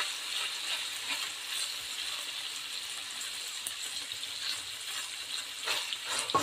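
Garlic and onion sautéing in a pan for pancit guisado, a continuous close sizzle with occasional stirring scrapes, heard alone at moderate volume.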